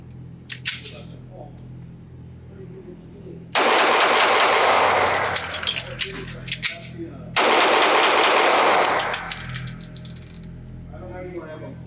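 A Springfield Armory XDs 3.3 single-stack 9mm pistol fired at a range: a faint click early, then a loud string of rapid shots, a brief gap for a quick magazine change, and a second fast string with ringing tails.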